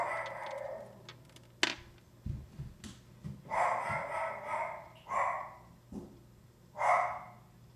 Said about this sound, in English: I apologize for the dog, if you can still hear him